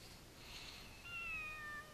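Cat meowing in the video game Ryu ga Gotoku Kenzan, a couple of faint, high drawn-out meows rising over a soft hissy background, with no speech.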